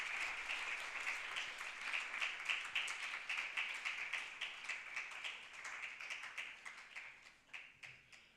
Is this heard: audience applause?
yes